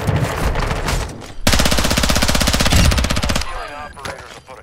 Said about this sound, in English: He's shooting from the window.